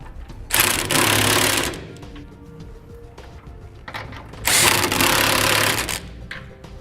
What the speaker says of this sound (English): I'm going to be using a 3/4-inch socket to tighten those up